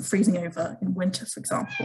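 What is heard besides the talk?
cat meowing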